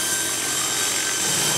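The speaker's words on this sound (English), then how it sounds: "We're gonna follow the RC car with this remote-controlled helicopter rig, which is also nicknamed a flying chainsaw." Remote-controlled camera helicopter rig flying nearby, a steady, dense buzzing whine with a saw-like edge that holds constant and loud throughout, with no talk.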